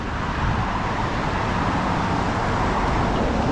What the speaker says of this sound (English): A lot of traffic out here, as you can hear.